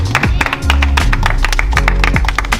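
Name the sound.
audience applause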